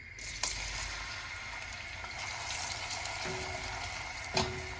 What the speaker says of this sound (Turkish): Yarım çay bardağı zeytinyağını tencereye aldım. Tencerenin altı açık yanıyor. Şimdi soğanlarımı ilave ediyorum.